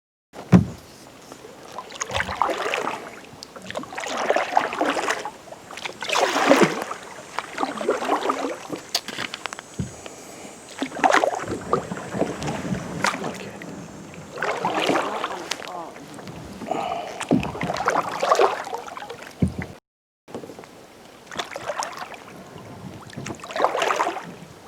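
Kayaks paddled on a lake, with paddle splashes, gurgling water and wind noise at close range, heard under intermittent talking.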